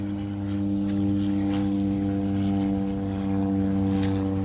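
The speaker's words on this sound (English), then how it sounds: "That airplane was like so low." Low-flying propeller airplane droning steadily overhead, a loud continuous engine hum with strong tonal layers that holds level throughout, heard outdoors with no talking.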